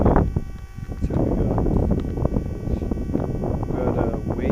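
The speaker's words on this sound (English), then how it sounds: "it's windy out here today." Gusty wind buffets the microphone with low rumbling bursts, continuous and close, with no clear speech.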